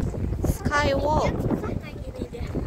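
Strong wind gusts across an outdoor playground, roaring and buffeting the microphone continuously while a person talks over it.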